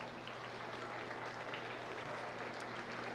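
Applause from a county fair livestock arena crowd for a division champion, a steady, fairly distant wash of clapping lasting throughout, with a low hum underneath.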